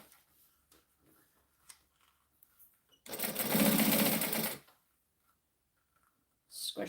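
Sewing machine backstitching while a handbag is made, a dense loud mechanical whir lasting about a second and a half between quiet pauses, with a second short burst starting at the end.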